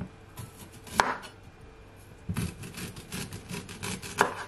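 Fresh, unpeeled ginger being chopped with a knife on a board: a few distinct, sharp cuts separated by short pauses, with soft rubbing and scraping in between.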